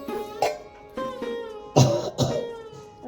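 One person coughs several times in separate harsh bursts, some with a hoarse, voiced quality, spaced unevenly across a few seconds.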